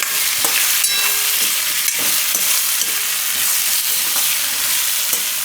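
Spices and turmeric frying in hot oil, a steady close sizzle with intermittent scraping stirs in the pan, no voices.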